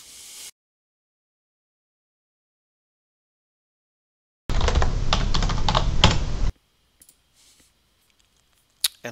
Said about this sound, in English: type in your password again